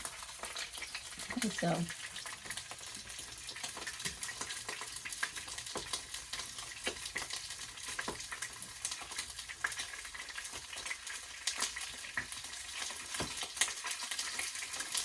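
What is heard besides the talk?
salmon pan searing and sizzling in oil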